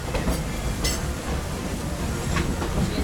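A Walt Disney World Railroad train rolls along steadily with a rumbling clickety-clack of wheels on track, moderately loud and continuous, with no talk.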